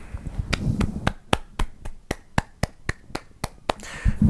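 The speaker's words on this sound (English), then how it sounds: "So let's do a little soft clap for Smith&Wesson" One person claps softly and evenly, about fourteen light claps in a steady rhythm, close and fairly quiet, with brief low rustling at the start and end and no voices.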